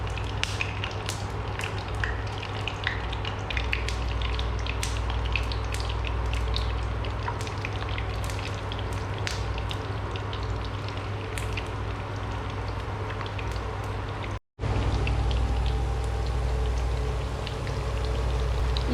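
Pakoras made from spiced gram-flour batter frying in hot oil for kadhi, a steady crackling sizzle with fine popping bubbles, close and continuous, with one brief dropout near the end.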